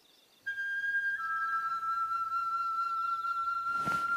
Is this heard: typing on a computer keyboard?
no